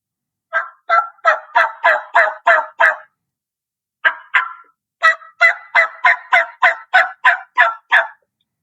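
Turkey hen yelps imitated by a caller on a mouth jaw call, two loud close runs of sharp, chopped notes, seven in the first and about nine in the second after a short pair, with rasp at the ends and no talk.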